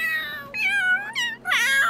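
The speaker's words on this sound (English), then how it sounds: "Quiet, kitty!" A cat in the Sims 3 video game lets out a run of loud, drawn-out meows, three whining calls in quick succession, near and clear over a faint low hum.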